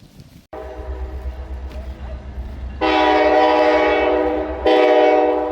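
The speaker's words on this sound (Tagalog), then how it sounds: "A train." A train near the suspension bridge at Denali National Park, Alaska, rumbles past close by while its horn sounds loudly in two long blasts, the second briefly after the first.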